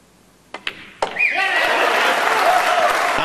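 A crowd at the 2013 World Pool Masters 9-ball final between Niels Feijen and Darren Appleton. A few sharp knocks come first, then loud cheering and applause swell up and hold steady, with whistles and shouts mixed in.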